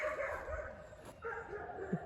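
A hunting dog off lead in the open gives a run of close, loud barks and yelps, with a sharper bark at the end and no talk.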